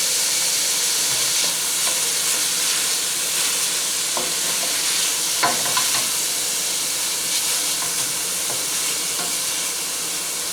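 Andouille sausage sautéing in olive oil in a pan gives a steady close sizzle and fry hiss throughout, with occasional stirring scrapes and pops, no voices.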